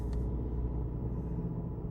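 An Opel Vectra B with a Y16XE petrol engine in limp mode holds a steady, capped rev under full throttle, a continuous close, loud droning rumble that never climbs.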